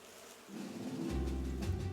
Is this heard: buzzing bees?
yes